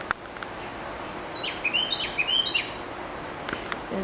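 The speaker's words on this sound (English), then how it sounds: "and you heard the other birds calling." Wild birds call outdoors, where a hummingbird also visits, with a run of high chirps and tweets in the middle of the stretch over a steady background hiss. The calls sound moderately distant, and no one speaks.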